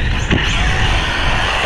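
An ARRMA Fireteam 6S RC car motor at full throttle gives a loud, close, steady whine and roar with a brief whir near the start and no talking.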